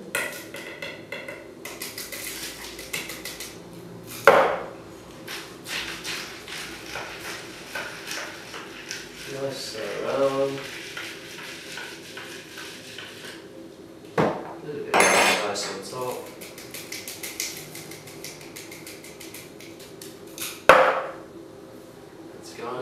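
Crushed ice is stirred in a drink glass, giving irregular clinks and rattling scrapes punctuated by a few sharp, loud knocks, with quiet gaps between.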